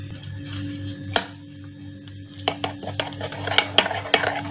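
Spoon clinking against a bowl while a marinade of lemon juice, soy sauce, cooking oil and paste is stirred together, scattered light metallic taps and scrapes growing busier toward the end, close and fairly quiet.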